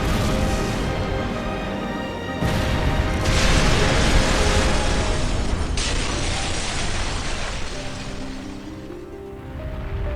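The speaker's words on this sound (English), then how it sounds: "Then the explosion happened" Explosion in Trails of Cold Steel IV, a loud sustained rumbling blast that swells in two bursts over several seconds, with mechanical clattering mixed in, then settles into a lower roar.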